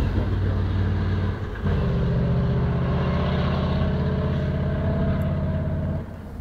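A loud motorboat engine drones close by with a deep, steady rumble, dipping briefly then resuming and fading slightly at the end as it moves away.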